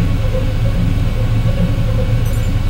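Deep continuous rumble of thunder from lightning striking over a farm, loud and steady throughout with no breaks, heard alone without talk.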